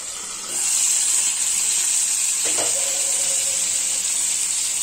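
Chicken frying in hot oil in a pan, lightly covered with a lid, for a village-style Tamil chicken dish: a steady, loud sizzle that swells after the first half second and holds. A brief clank from the lid comes partway through.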